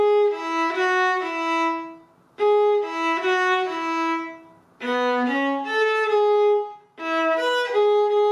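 Solo viola plays the opening six measures of a song as a slow, clear melody of sustained bowed notes in three phrases separated by short breaths, close and alone.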